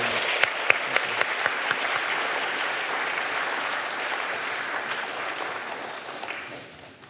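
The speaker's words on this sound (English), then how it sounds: "let's give a round of applause to our distinguished speakers" Audience at a technology summit conference applauds its speakers, a dense, steady wash of many hands clapping that stays loud throughout and tapers off near the end.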